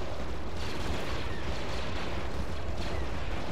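Blaster gunfire in the Star Wars Republic at War video game: a dense, continuous roar of overlapping shots from a battle, loud and steady with no separate bursts.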